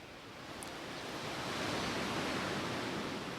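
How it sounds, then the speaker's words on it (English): Steady ocean surf breaking on a beach, a continuous broadband wash of waves that swells slightly and holds, close and fairly loud with no talking. "You may have heard some waves crashing in the background of the introduction to this episode."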